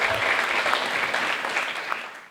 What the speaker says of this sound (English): Gigi, round of applause.